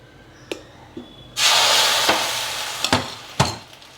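Appam batter hits a hot pan and bursts into a loud, steady sizzle, preceded by a few sharp clinks of a ladle, with more scraping knocks as the frying continues.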